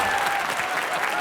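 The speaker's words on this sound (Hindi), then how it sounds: "ठोको ताली" Studio audience applause on a comedy chat show, answering a call to clap after a joke about renting a bungalow to tenants: a short, steady wash of clapping, moderately loud throughout.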